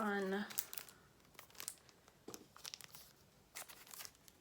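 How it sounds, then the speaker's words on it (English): Plastic wrap being peeled off a Kindle Paperwhite 10th generation e-reader, heard as faint, sparse crinkling and tearing rustles after a brief spoken moment at the start. "unwrap it. Here we are."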